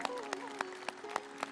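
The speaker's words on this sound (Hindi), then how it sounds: "अरे ताली तो बजाओ जरा जोर से" Audience applause at a yoga and spiritual discourse, sharp clap bursts recurring roughly every quarter second over a steady crowd bed, moderately loud, with a speaking voice faintly underneath.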